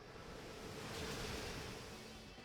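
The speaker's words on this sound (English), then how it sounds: "So we're going to Muddy Water." Muddy Water move from a Pokemon VGC 2020 battle, a broad rushing, surging wash of water that swells slightly in the middle and holds steady throughout, with no talking.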